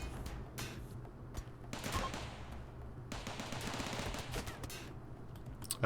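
Turret gunfire in the video game RimWorld rattles off in rapid automatic bursts, sharp shots spread across several seconds with short gaps, fairly loud and with no talk over it.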